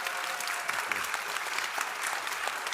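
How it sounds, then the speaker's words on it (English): An audience at a space-themed talk breaks into steady applause, a dense, even patter of many clapping hands that holds for the whole stretch. "But please make a round of applause."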